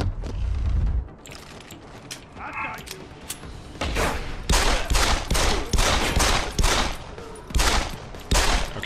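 GEP gun takedown in Deus Ex: Human Revolution – The Missing Link, a burst of heavy weapon fire and sharp repeated blasts after a quiet start, loud and close, with combat noise continuing throughout.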